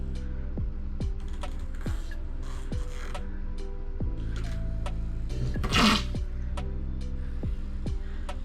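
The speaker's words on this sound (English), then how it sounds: "It's a powerful little motor." A cheap robot fishing lure's small motor whirs steadily up close, joined by repeated sharp clicking ticks at a fairly even pace and one brief louder splashy burst near the end.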